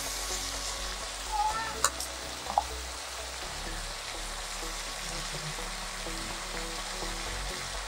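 Mushrooms, chopped green chili and potato fry in a pan with dried loitta fish, giving a quiet, steady sizzle with a couple of faint stirring clicks early on.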